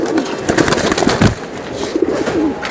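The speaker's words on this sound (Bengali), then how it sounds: "এইটা হচ্ছে বইল পাখি কবুতর" A Boil breed pigeon coos up close in low, throaty bursts, mixed with fluttering and handling noise at a fairly loud level.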